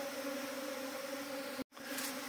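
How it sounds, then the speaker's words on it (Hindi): A swarm of honey bees arriving at a hive, a dense, steady buzzing drone heard close up, broken by a brief cut before the buzzing resumes. "तो इस तरह से आता है मधुमक्खी का नया झुंड"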